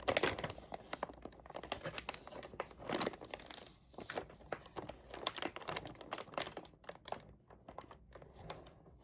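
Clicking keys of a mechanical RGB keyboard being unboxed, heard as rapid, close, crisp clacks in uneven bursts among light crinkling of packaging, with no talking.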